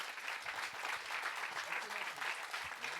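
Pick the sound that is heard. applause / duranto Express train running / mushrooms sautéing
applause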